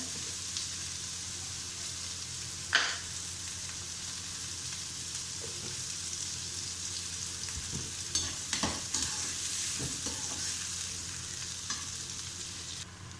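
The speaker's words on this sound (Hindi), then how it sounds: "प्याज फ्राई हो चुके हैं" Two to three medium onions fry in a pan with a soft, steady sizzle, punctuated by occasional scrapes and knocks of a stirring spoon, fairly quiet and with no talking.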